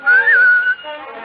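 A person whistles a bright, sustained melodic phrase that rises and then holds, alone and close, in a radio drama adaptation of Pinocchio, followed by a softer lower tone.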